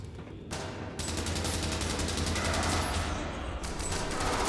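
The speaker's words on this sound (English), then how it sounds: "They're shooting at everybody." Rapid gunfire from a firefight in Fallout London rattles in continuous bursts after a short quiet start, loud and sustained, with overlapping shots and no talking.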